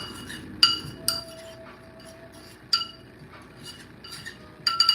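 A lamb meatball gyro mixture is stirred in a bowl, giving a series of crisp, bright clinks of utensil against the dish at irregular intervals, close and clear with little else heard.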